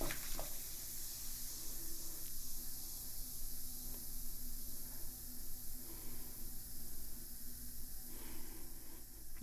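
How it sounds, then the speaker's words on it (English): Homemade rose spice bath bomb powder fizzing after water is added, a steady close hiss and soft crackle running throughout with no talk. "You can definitely hear it fizzling and sizzling away"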